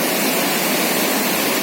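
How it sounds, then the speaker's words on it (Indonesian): The Pesangan river rushes in a steady, loud, unbroken roar of flowing water, with no voices over it. "Sungai ini adalah sungai yang harusnya mengalir ke Birun sana."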